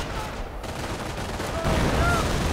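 Artillery barrage and gunfire in a World War II strategy game, with continuous dense rumbling explosions and crackling shots forming a loud, unbroken battle din, no voices audible.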